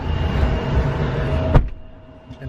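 A car carries passengers over to an airport terminal: a steady low engine and road rumble from inside the cabin, a sharp thump or door clunk, then quieter cabin hum.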